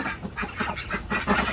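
Blue Swedish ducks on a homestead quack in a quick, irregular series of short calls, close by and fairly soft, with no talking.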